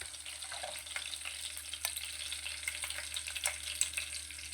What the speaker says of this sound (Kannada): ಎಣ್ಣೆಲಿ ಸ್ವಲ್ಪ ಫ್ರೈ ಮಾಡ್ಕೊಳ್ಳೋಣ.